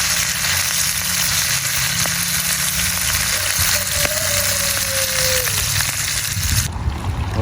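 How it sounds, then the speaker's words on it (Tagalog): Food fries in a pan during backyard cooking, giving a steady, loud, broadband sizzle that runs unbroken for several seconds and cuts off abruptly near the end. "Habang hinihintay ko yung prito ko"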